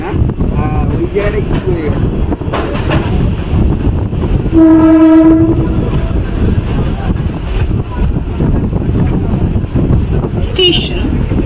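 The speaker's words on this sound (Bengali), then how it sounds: "অলরেডি কিন্তু ট্রেন লেগে গেছে 52 নম্বর প্ল্যাটফর্মে" A train pulls into a platform at Bidhannagar Road station in Kolkata, India. Its horn blasts once, loud and steady for about a second mid-clip, over constant rumble, platform bustle and background voices.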